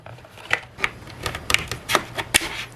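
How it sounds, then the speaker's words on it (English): Pry bar working open the case of a MageGee MK-Star 75 mechanical keyboard: a series of sharp plastic clicks and snaps at irregular intervals, close and fairly quiet, with faint scraping between them. "I just put my pry bar here and we're going to start working this keyboard upward or sideways"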